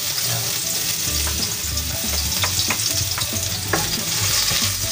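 Six cloves of garlic sautéing in a pan as the start of a tomato-based chicken wing dish, a steady close sizzle broken by several sharp spatula taps and scrapes, with a low clunky stirring rumble beneath.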